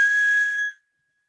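A single steady whistled tone held by a person for under a second, clean and sustained before cutting off into silence.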